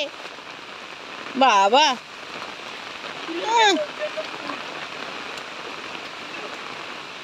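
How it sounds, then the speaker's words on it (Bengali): Heavy rain falls in a steady wash of hiss with two short bursts of voices calling out over it. "বৃষ্টিটা খুব বেড়ে গেল"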